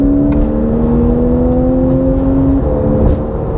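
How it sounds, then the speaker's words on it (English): Porsche 991 with sports exhaust accelerating on an open road: a loud, steady droning engine note that climbs in pitch, then drops as the gear changes, heard from inside the car without talk. "the exhaust on a 991 can be a little bit drony at times. It is the sports exhaust"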